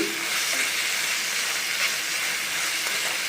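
A cucumber and tamarind chutney sizzles and hisses steadily in a hot pan as it is stirred and fried, a constant close, bright frying noise with no talking.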